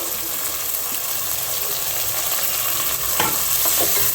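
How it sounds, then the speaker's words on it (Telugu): Tomatoes and green chillies fry and are stirred in a pan with onions for a chicken and leafy-vegetable curry, giving a steady loud sizzle with a few scraping stirs near the end. "ఇవి కూడా ఫ్రై చేసుకుందామండి టమాటా మగ్గే వరకు."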